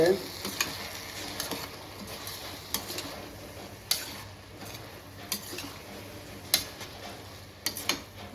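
Rice and meal maker soy chunks stirred in a frying pan for tomato rice, with a steady close sizzle and repeated sharp scraping clicks of the spoon against the pan.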